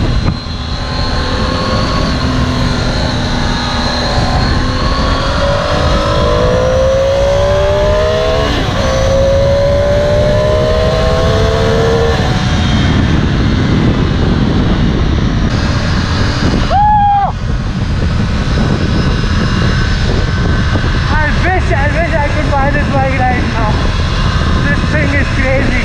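A Triumph Tiger 800 XRX motorcycle pulls hard on a test ride in India, loud and close, with engine pitch climbing through the gears under constant rushing wind noise.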